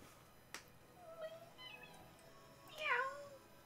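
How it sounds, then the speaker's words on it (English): A cat meows a few times, soft and close, ending in a longer, clearer meow, with a faint tap or click between calls. "Meow."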